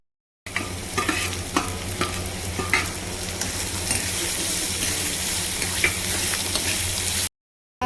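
Ginger, garlic and green chillies sautéing in hot oil for baingan bharta, with a close, continuous sizzle and the scrape of a spoon stirring, starting and stopping abruptly.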